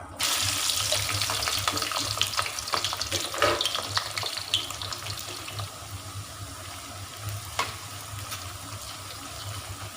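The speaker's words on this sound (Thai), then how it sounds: "นำเฟรนฟรายลงทอดในน้ำมันร้อนนะครับ" French fries sizzle and crackle steadily in hot oil in a wok, a continuous hiss with scattered pops, fairly close.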